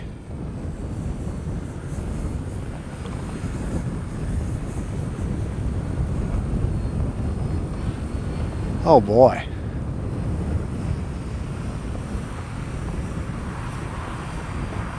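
A small H-King Flybeam 2 RC trainer plane flies at night in gusty wind, its electric motor rising to a brief whining pass midway through steady wind rumble on the microphone, with a short exclamation from a man.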